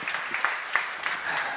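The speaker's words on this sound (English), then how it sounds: "Round of applause to them." Applause from an audience at the WindWorks wind energy conference, a short burst of scattered clapping in a room that is moderately loud and uneven, with a voice faintly underneath.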